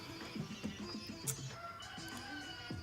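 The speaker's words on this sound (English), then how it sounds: "You hear the chicken?" A chicken clucks in a quick run of short, nasal calls, followed by a few more clucks and a squawk. The bird is fairly faint against a low background hum.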